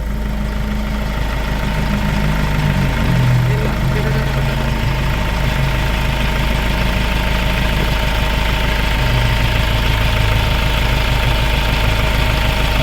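A Hyundai diesel engine idles steadily while its injectors are bled, a loud, continuous low rumble with a constant hum and fine rapid clatter throughout, with no voices.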